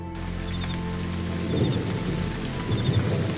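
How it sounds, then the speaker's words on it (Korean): Steady rain pours down while low rumbles of thunder roll in twice, fairly close, with no voices, in a scene from the film Interstellar. "그리고 천둥과 비가 내리는 소리입니다."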